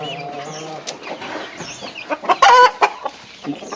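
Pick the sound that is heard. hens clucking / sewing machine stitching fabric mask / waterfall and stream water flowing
hens clucking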